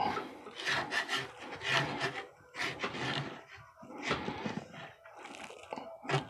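A pipe being threaded while held in a pipe wrench gives a loud, close grinding rasp in uneven strokes with short pauses, a dry crunching scrape repeated about six times.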